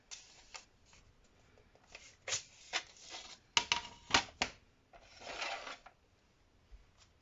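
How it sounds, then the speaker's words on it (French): A paper guillotine cutter slices card stock in a series of sharp, close rasping cuts and clacks, spaced irregularly with quieter handling noises of the card in between. "on va prendre notre massicot"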